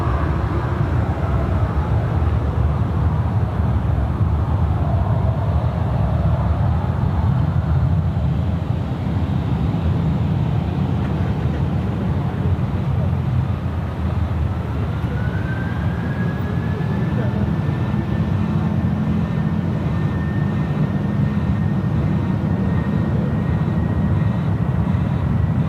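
Jetstar jet rolling for takeoff on runway 16 right at Sydney Airport, a loud steady engine roar with a rising whine, continuous throughout.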